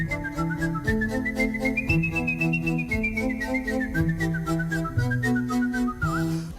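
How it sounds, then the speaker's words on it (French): A man whistles a continuous melody with clear sustained notes that rise and fall, loud and close, with no talk. "pour ce qui est de siffler, je fais le job"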